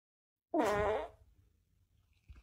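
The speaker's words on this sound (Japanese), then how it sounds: "おならしたじゃん。" A short, loud fart bursts out close up, a buzzy raspy blast lasting about half a second, followed by faint low rumble and near silence.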